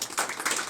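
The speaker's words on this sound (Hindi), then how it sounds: "एक बार ज़ोरदार तालियां उनके लिए आप लोग बजाइए।" Audience clapping at an open mic poetry event, a brief burst of many hands clapping close by with a swelling rhythm of overlapping claps, filling the short moment on its own without talk.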